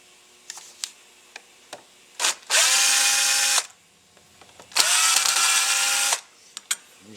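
Two loud bursts of a power driver backing screws out of an AMC V8 Carter M3158S carburetor, each lasting over a second, with small clicks and taps of handling between them.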